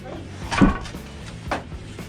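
A door closing with a single soft thud near the middle, followed by a second fainter bump, set against a quiet indoor background.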